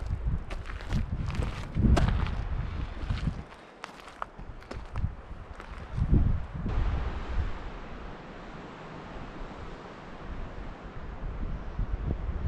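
Wind gusting outdoors on a spring hiking trail in Corsica, a broad rushing roar that swells and buffets the microphone, with crunching footsteps mixed in and no talking.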